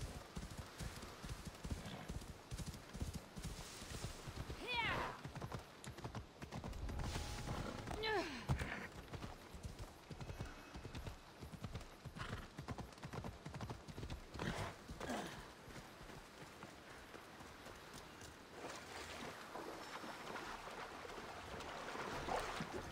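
A horse in the Assassin's Creed Odyssey video game walks with steady clip-clopping hooves throughout, layered over ambient waves and surf, with brief spoken remarks.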